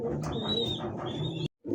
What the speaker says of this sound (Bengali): একদমই হোয়াইট পটার এক জোড়া কবুতর আছে মাশাআল্লাহ।